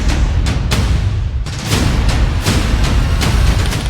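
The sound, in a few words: firecrackers exploding on Diwali night in Delhi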